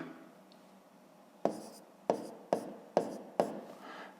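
A pen or pencil writes numbers on paper while working out a long division problem for a fifth-grade math exercise, giving five sharp, close strokes in a steady rhythm after a quiet start.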